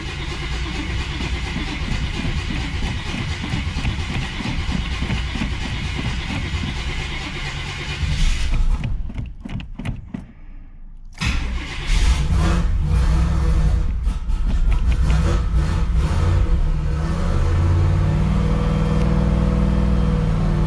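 A 1984 Chevrolet Camaro Z28 V8 engine cold-starting, cranking in short bursts with a gap of near silence before catching and settling into a loud, steady rumble close by.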